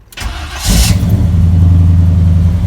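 A car engine cranks briefly, catches and fires up after the fuel pump primes, then settles into a steady, loud idle that runs on with no talking.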